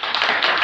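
A church congregation breaks into quick clapping for Jesus, a loud, close wash of many hands that stays dense and even throughout its short length.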